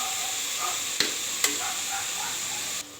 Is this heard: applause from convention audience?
no